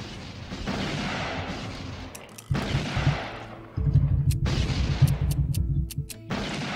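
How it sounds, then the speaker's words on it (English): Heavy bursts of Gatling gun fire from the game Blood Will Be Spilled, loud rattling volleys in three or four long stretches with short gaps, booming low impacts underneath and sharp metallic pings between them. "Gatlin is a magnificent gun, unless you're on the wrong side of the barrel."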